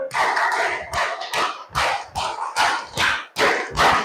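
Rhythmic hand clapping in a classroom, a group clapping together in a steady counted pattern of sharp, loud beats with short pauses between bursts.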